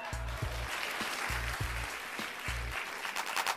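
A game-show studio audience claps steadily and fairly faintly through the whole moment, while low rhythmic music thumps underneath.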